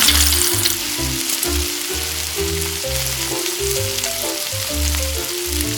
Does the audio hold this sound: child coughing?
no